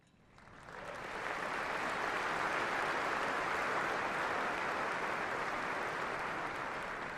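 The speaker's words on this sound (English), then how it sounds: "let's have a big round of applause for all of our outstanding non-commissioned officers." A large audience at a formal military ceremony honoring Army non-commissioned officers breaks into applause, rising within a second to sustained, dense, even clapping that stays steady to the end.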